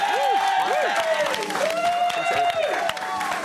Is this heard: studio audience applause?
yes